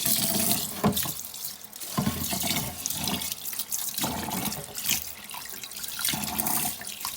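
Filtered tap water runs steadily into a kitchen sink while rice is rinsed, with a continuous splashing rush broken by periodic surges and sloshes, close and moderately loud, with no talking.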